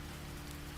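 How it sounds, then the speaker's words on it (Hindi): Steady rain pattering on a surface on a dark night near an old mansion, a soft continuous wash of drops at low volume with no voices. "जवाब में सिर्फ सन्नाटा और बारिश की टिप टिप सुनाई दी।"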